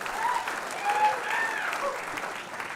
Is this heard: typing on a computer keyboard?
no